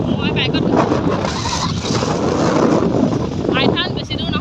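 Motorbike ride on the way to a picnic near Dibrugarh, with steady broadband engine and wind rumble throughout and a voice talking over it.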